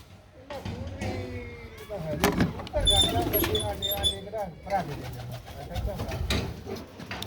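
Pigeons coo repeatedly nearby, soft throaty calls mixed with a few chirps and fluttery knocks, while people talk over them.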